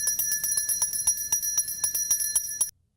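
A Salvation Army handbell rings outside a retail store beside a red holiday kettle, quick bright metallic strokes repeating at an even pace, moderately loud, before stopping abruptly.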